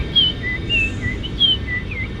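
Several birds call in a mountain setting, clear repeated whistled chirps and short tweets at fairly close range over a low steady background rumble, with no talk.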